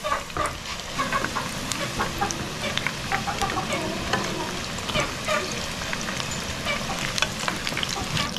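Eggplant frying in hot oil until crispy, a dense, loud crackling sizzle with constant popping spatters that holds steady and close throughout.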